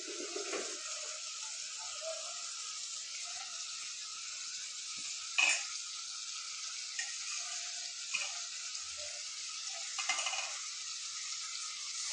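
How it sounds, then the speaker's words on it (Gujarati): Crushed garlic sizzles with sliced ivy gourd (kankoda) in a pan for a Gujarati vegetable curry. A steady, fairly quiet frying hiss runs throughout, with a few sharp clinks and light stirring scrapes. "હવે કૂટેલું લસણ અંદર થોડુંક નાખી દઈએ"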